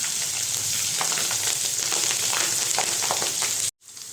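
Mustard seeds, asafoetida and green chillies hit hot oil with a loud, bright crackling sizzle and scattered pops, steady until an abrupt cut just before the end.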